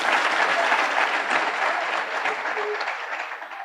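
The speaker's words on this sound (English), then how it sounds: "Round of applause" Steady audience applause at a township economy chat event, a dense, even wash of clapping that holds throughout without talk over it.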